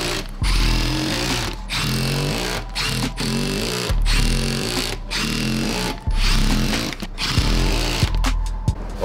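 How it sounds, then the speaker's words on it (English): A power drill drives screws into the outside of a backyard repair, the motor whirring loudly in several sustained runs of one to two seconds, broken by brief pauses and clicks between screws. "I want to put in all the screws on the outside."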